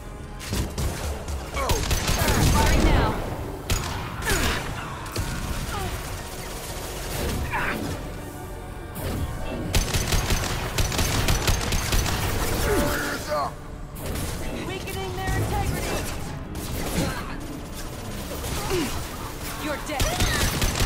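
Rapid bursts of gunfire from the Mass Effect Legendary Edition game, with sharp repeated shots and impacts spread across the stretch, loud and close, under ongoing voices.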